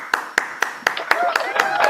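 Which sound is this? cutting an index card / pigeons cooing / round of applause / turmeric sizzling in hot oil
round of applause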